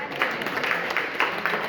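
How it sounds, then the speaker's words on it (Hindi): Brief applause from a gathered audience at a public talk, a dense wash of many hands clapping at steady volume throughout, fairly close and with no speech on top. "एक बार जोरदार ताली होनी चाहिए"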